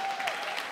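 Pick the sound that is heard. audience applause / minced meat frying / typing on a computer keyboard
audience applause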